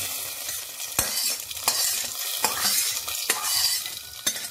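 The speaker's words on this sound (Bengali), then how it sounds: "ফোড়নটা দেওয়ার সময় লক্ষ্য করেছিলেন কি, একটা সাউন্ড হলো ডালে ফোড়ন দেওয়ার সময়।" Hot tempering of fried spices poured into biulir dal with radish, giving a steady bright sizzle with several sharp crackling bursts, close and fairly loud with no talking.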